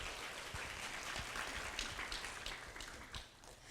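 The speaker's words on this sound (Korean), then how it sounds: "함께 해주신 세 분께 모두 큰 박수 부탁드리겠습니다" Quiet, steady applause from the audience at a startup forum talk concert at Ewha, heard as soft scattered clapping throughout, thinning slightly toward the end.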